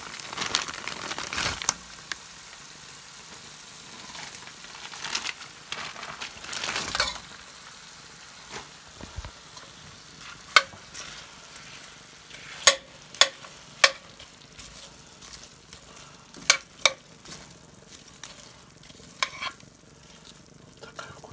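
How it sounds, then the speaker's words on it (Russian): Scallops and squid tentacles frying in a pan for a seafood pasta in creamy garlic sauce, with a steady close sizzle, stirring scrapes, and a few sharp clinks of a utensil against the pan. "Обжариваем гребешки. Добавляем щупальца"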